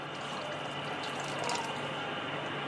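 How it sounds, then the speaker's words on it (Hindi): Water is poured into a pot of spicy Kalla pulao during cooking, a steady, continuous liquid rush that stays fairly even from start to end with no talking over it. "अब इसमें थोड़ा पानी डालेंगे"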